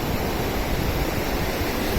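Waves and rushing water where river water flows into the sea make a steady, loud roar of surf, continuous and close, with no voices.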